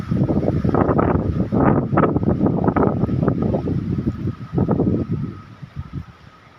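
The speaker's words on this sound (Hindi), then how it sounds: "हवा की आवाज़ भी आ रही है, आपको आ रही होगी।" A strong wind storm roars through a garden, battering the microphone with loud, gusting rumbles that rise and fall in surges and ease slightly toward the end.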